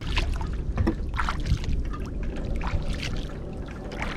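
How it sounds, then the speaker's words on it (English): Small fish splash repeatedly in a freshwater creek in central Florida, with scattered light watery slaps and trickles over steady outdoor ambience, no talking. "we got tons of these little fish splashing around everywhere"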